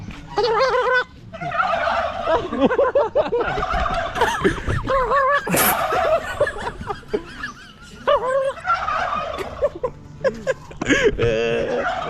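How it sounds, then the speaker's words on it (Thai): Turkeys gobble loudly and repeatedly nearby, their warbling calls overlapping in bursts, with some faint voices in the background. "ไก่งวงเหรอไก่งวง"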